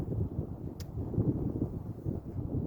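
A north-northwest wind blows across an outdoor casting practice spot on a chilly April day, giving a steady low, rumbling buffet against the microphone for the whole stretch, with no talking.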